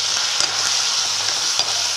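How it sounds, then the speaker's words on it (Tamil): Small brinjal pieces with a little turmeric powder frying in oil, a steady loud sizzle with a couple of stirring scrapes, close up, no voices. "ஸோ இதை எண்ணெயில் நல்லா வதக்கிக்கலாம்."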